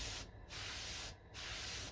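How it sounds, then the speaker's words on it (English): An airbrush set to about 35 psi sprays paint onto tissue in a steady hissing stream, cut by two brief pauses, close and alone. "Now I set my airbrush around 35 psi"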